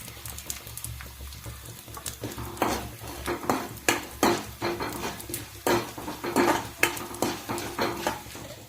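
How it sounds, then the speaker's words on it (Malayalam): Urad dal and dried red chili fry in hot oil under a steady sizzle while a spoon stirs them, making repeated rhythmic scrapes and clinks against the pan, close by and with no voices. "നമ്മുടെ ഉഴുന്നുപരിപ്പ് ഇവിടെ ചൂടായിട്ടുണ്ട്, നന്നായിട്ട് മൂത്തിട്ടുണ്ട്."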